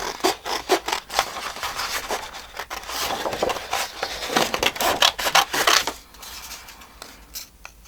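Scissors cut around paper from a recycled envelope, a close series of crisp snips and rustles repeating in an uneven rhythm for several seconds before the cutting eases off.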